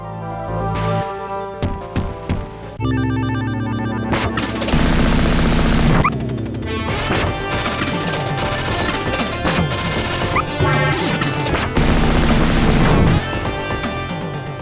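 A fire dragon attacks in the Sega Genesis game Alisia Dragoon, with loud rapid bursts of crackling, explosive game sound effects firing in dense volleys over music.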